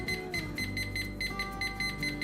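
A kitchen cooking thermometer, set to alert when milk for homemade yogurt reaches 180 degrees, gives a rapid series of short, steady, high-pitched electronic beeps, heard close and alone.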